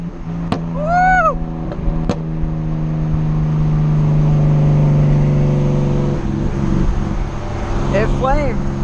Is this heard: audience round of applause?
no